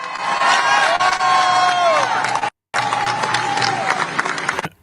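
A large crowd at a Chicago labor rally roars and cheers loudly and continuously, with whoops and shouts rising over the din, broken by a brief silent gap before the cheering resumes.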